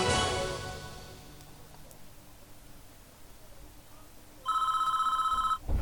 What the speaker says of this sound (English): he's calling us through the phone in here